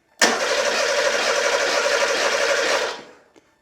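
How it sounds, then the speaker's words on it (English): A Porsche 911 Carrera 3.2L engine cranks over steadily for about three seconds without catching, a loud, continuous starter whir and churn that stops abruptly, followed by a faint click. "So I'm going to crank the engine and see how much it drops"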